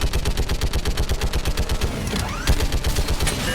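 Mounted turret gunfire in a sci-fi video game, a loud rapid stream of evenly spaced shots, followed by a heavier blast and a whooshing sweep toward the end.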